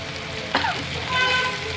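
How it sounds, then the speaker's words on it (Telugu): Close, bright sizzling of turmeric, mustard seeds, curry leaves and dried red chillies crackling in hot oil, with a brief squeaky sweep of a utensil near the start. "పసుపు ఉప్పు ఆవాలు కరివేపాకు ఎండుమిర్చి వేసుకుని పోపు వేసుకుని వేయించుకుంటున్నాను"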